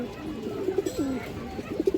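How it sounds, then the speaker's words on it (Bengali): Pigeon cooing close by in a loft of fancy breeds, soft throaty coos repeating through two seconds, with a brief murmur of a voice beneath. "খুব সুন্দর আছে কবুতরটা"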